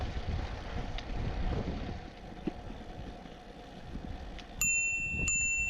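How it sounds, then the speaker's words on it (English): A bicycle bell on a Brompton folding bike rings twice on a rural canal towpath, clear bright dings near the end over a low background rumble. "Plentiful use of the bell in the approach to bridges is a must."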